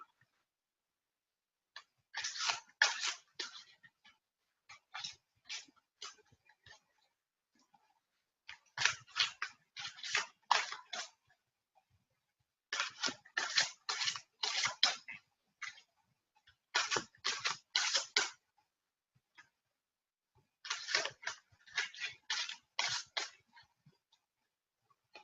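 Bursts of rapid riffling shuffles of a large 78-card deck repeat in clusters with short pauses between, crisp and close, no talking.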